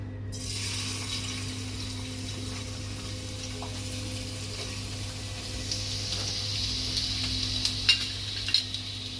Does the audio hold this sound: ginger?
yes